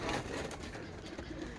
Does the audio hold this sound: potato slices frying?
no